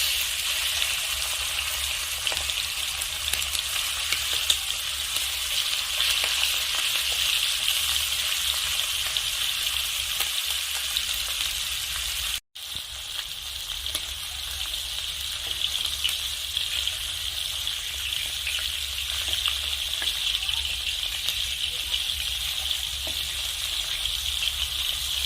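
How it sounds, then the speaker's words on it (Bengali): Chicken pieces fry in hot mustard oil in a kadai, a steady close hissing sizzle that holds evenly for a long stretch, broken only by a brief dropout midway, with no talk. "এখন আমি অল্প অল্প করে চিকেন ভেজে নেব।"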